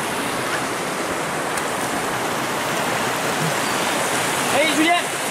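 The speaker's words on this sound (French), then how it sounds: "Ça laisse apprécier la beauté du ruisseau." Forest stream flowing on a grey day during a bushcraft hike, a steady broadband rush of running water close by, continuous and alone, with a faint brief chirp near the end.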